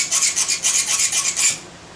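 A hand file rasps against a part of a Blitz blow-off valve for a Subaru Impreza. About eight quick, even, close strokes are heard, then the scraping stops.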